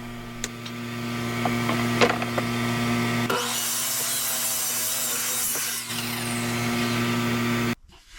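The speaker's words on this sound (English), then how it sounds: "Now we're just using the chop saw here to get the pieces cut down to size." Chop saw cutting wooden boards to size in a woodturning shop, heard as a loud, sustained whine of cutting with steady motor hum that continues throughout, then drops off abruptly near the end.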